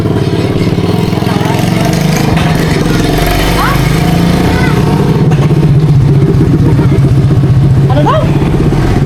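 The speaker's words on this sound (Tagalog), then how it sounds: "yung Mio yung motor ni ate" A Yamaha Mio scooter motorcycle drones steadily while riding, its engine buzz loud and continuous under wind rumble, with people talking over it and a brief high squeal or two mixed in.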